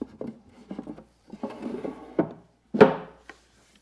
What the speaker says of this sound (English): So with the top all put together, we can slide the drawer in.